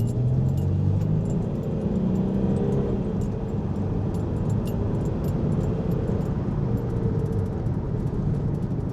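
Euro diesel Jeep Commander accelerating toward 60 mph, a steady, loud low engine drone with road and wind rush heard from inside the cabin, no talking.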